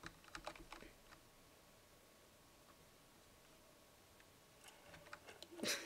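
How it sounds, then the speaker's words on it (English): Computer keyboard keys are tapped in quick, light clusters at the start and again near the end, with a quiet, near-silent stretch between the bursts. "why are you typing?"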